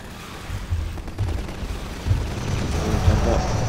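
Gunfire and heavy booms in the Half-Life 2 Riot Act mod video game, irregular shots and low blasts rising in intensity, with a voice briefly talking over the combat.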